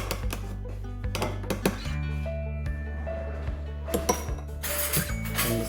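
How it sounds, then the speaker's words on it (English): Spicy Bangladeshi-style guacamole ingredients are stirred together with extra olive oil in a bowl. Sharp spoon clinks and taps ring out irregularly over a steady low electrical hum. "you just mix this around a bit so all the ingredients get blended"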